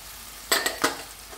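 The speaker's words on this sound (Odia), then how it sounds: "ପିଆଜ ଆଉ କ୍ୟାପ୍ସିକମ୍କୁ ଭାଜିବେନି" Onion and capsicum in a frying pan for chilli chicken, heard as a few quick stirring scrapes with brief sizzling bursts, close and alone over a quiet background.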